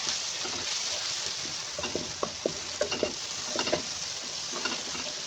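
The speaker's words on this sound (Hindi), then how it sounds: "हमने इसे अच्छी तरह से भून लेना है।" Tomatoes with garlic-ginger paste fry and sizzle steadily in a pan for a Pakistani cauliflower and meat curry, with a run of clinking stirring taps over the constant hiss, close and alone without talk.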